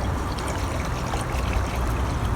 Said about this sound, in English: adding some water to the pot